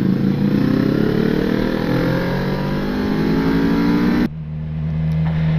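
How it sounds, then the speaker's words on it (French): A BMW S1000XR motorcycle engine revs loudly and steadily up through the gears while climbing a mountain road, pitch rising, then drops abruptly and settles into a lower idle near the end. "la chanson, le chant du moteur, un petit peu."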